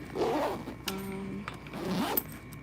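Zipper pulls drawn along a handmade backpack, two distinct zipping passes with a brief rasping pause between, close and clear, no voices.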